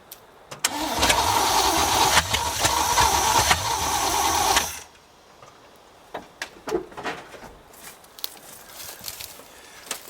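A 1973 square body truck, parked for over 20 years, cranking over to start: a loud steady rapid churning of the starter for several seconds, then it stops, leaving faint scattered clicks and handling noises.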